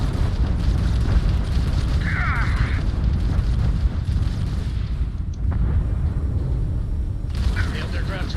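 Enemy ship's grav drive exploding during a Starfield space battle, a dense rumbling burst and crackle layered over constant low engine drone, with a brief sharp flare partway through and more debris crackle near the end.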